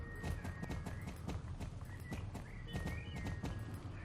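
Horse hooves clip-clopping in the video game Star Stable in a quick, regular rhythm, loud and close, with a faint high tone in the background.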